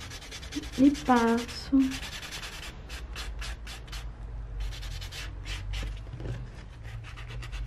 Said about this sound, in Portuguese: Aí eu pego o bloquinho polidor.